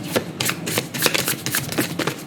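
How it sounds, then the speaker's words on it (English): Tarot cards are shuffled in quick bursts of papery riffles and taps, close and fairly crisp, with no talking. "I'm going to keep shuffling."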